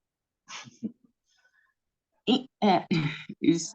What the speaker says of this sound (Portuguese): estou aqui, tossi